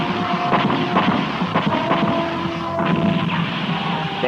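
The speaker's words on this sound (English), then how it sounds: "Robot tank, fire!" Robot tanks firing in an animated battle: dense, continuous rumbling booms and blasts with wind-like roar, loud and close throughout, no voices.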